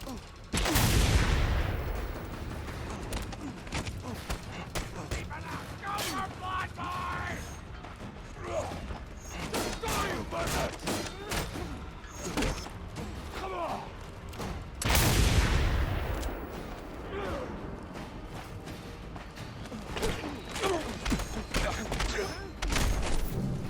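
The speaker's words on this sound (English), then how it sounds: "Why was there so many explosions?" Loud explosions and bursts of gunfire from the video game Mad Max crack out repeatedly, with two big blasts roughly fifteen seconds apart, amid clanking mechanical noise and game action.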